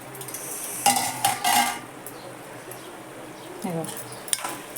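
A pot lid is lifted with metallic clatter and a ridge gourd curry is stirred, producing a few clinks and scrapes over a soft background sizzle.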